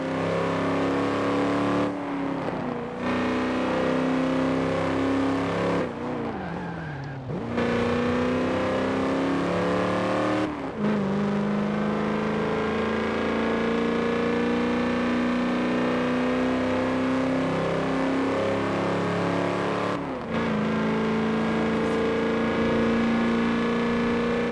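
Car engine in the Forza Horizon 4 racing game, a steady loud drone with rising and falling revs through gear changes, several brief dips where the engine note cuts before climbing again, with no talking.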